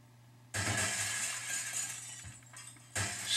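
Glass smashing in the physics game Happy Wheels, a loud shattering burst followed by a sustained tinkling spray of shards, then a second smash near the end, all over a steady low hum.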